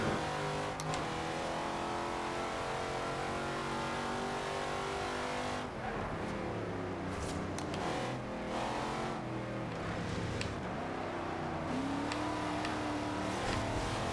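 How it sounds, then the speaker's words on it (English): In the Forza Horizon 2 racing game, a 1963 Chevrolet Corvette C2 V8 roars loudly and continuously, rising and falling as it revs and shifts through repeated accelerations, with brief tire noise on gravel. "I love the sound of that V8."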